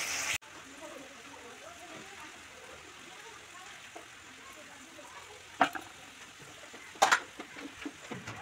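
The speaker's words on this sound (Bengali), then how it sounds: "আর এদিকে মাছ ভাজবো কড়াতে।" Turmeric-coated fish fries in hot oil in a wok, a faint steady sizzle with a few sharp pops and clatters of utensils near the end.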